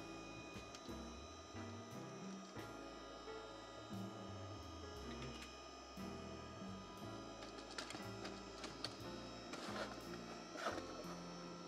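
A tape drive in a home server setup runs a cleaning tape, giving a faint, continuous mechanical whir and hum with small shifting clicks and motor tones, no voices.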